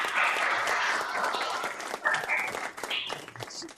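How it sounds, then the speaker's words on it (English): An audience claps to welcome Christian D'Antonio at an AgTech interview event, a dense, steady patter of many hands that carries through the whole stretch with slight swells and a faint voice underneath. "let's give Christian a warm welcome. Applause, guys"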